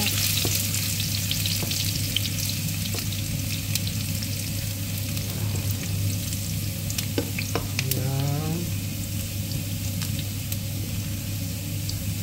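Garlic sizzles and fries steadily in hot oil in a home kitchen, a dense continuous crackle running the whole time with a brief clink partway through and no talking.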